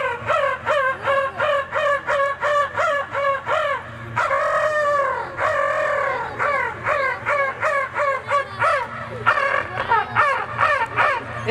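A voice imitates crows cawing, producing a long run of rapid, harsh, rhythmic caws with a brief drawn-out call in the middle, loud and close with no other sound.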